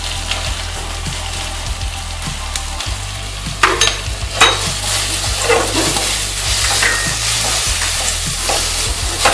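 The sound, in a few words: spices with Kashmiri chili and turmeric frying in pan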